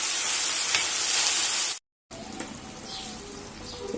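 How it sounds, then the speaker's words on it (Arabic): Meat is seared in hot oil for homemade beef shawarma, a loud, steady, close sizzle and crackle that cuts out briefly and then returns a little quieter. "نشوحها على طول في الزيت"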